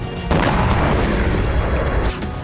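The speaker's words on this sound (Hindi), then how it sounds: "जिसके सबूत हैं ये विस्फोट।" Deep, heavy explosions from missile strikes near the Konhar bridge in Kherson during the Russia–Ukraine war roar loud and close in a sustained rumbling blast lasting about two seconds.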